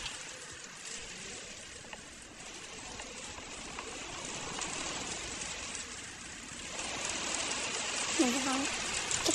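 Steady rain in the horror video game Doors patters and hisses continuously at a moderate level, swelling slightly louder toward the end, with a faint tonal game sound near the close.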